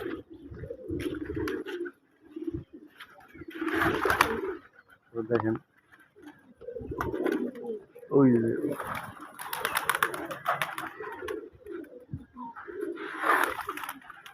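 Red and white pigeons for sale in Bandura, Nawabganj, Dhaka coo in soft, throaty bursts between stretches of someone talking nearby, with occasional rustles and brief wing movement.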